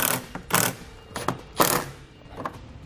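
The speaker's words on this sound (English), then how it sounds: "now we'll tighten those bolts on up" Trailer hitch bolts being tightened on a 2010 Audi Q7 during a Curt Class III receiver installation, heard as a series of short ratcheting bursts, about five, separated by pauses, close and moderately quiet with no talking.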